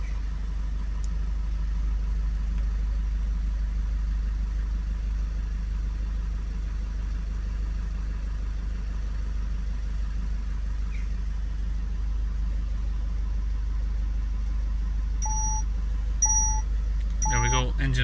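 A Citroen Dispatch 2.0 van engine, with a P1583 additive level fault, idles with a steady low hum, joined near the end by a few short electronic beeps.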